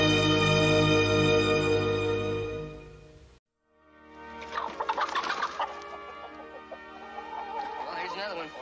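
Farmyard chickens cluck and chatter around a chicken house in an old Western drama, rising after a musical passage fades out, with voices speaking over the birds.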